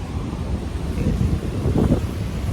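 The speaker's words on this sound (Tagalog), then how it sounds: "lakas ng hangin" Strong typhoon wind buffets the microphone in a steady, rumbling roar, with no voices.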